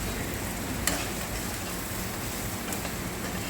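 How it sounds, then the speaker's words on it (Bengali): Flattened rice (chira) and papad fry in hot oil with a steady, dense sizzle and a few faint clinks, close up and with no talk. "চিড়া ভাজা হয়ে গেছে, পাপড় ভাজা হয়ে গেছে।"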